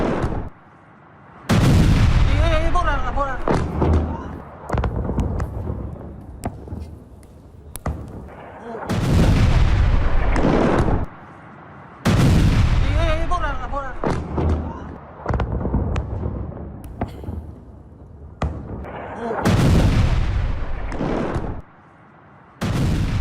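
Repeated heavy blasts from attacks on residential areas of Tehran, loud booming explosions in several bursts with rumbling decay between them, about four or five big impacts close together.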